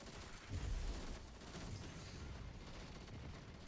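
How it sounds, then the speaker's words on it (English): Rapid light machine gun fire in the video game Destiny 2, a dense continuous burst of game gunfire with a heavier thump near the start, steady and loud throughout. "I'm going to not stun this Overload Champion and simply just fire my gun at him"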